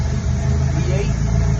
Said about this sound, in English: We just put another engine in the car and starting it.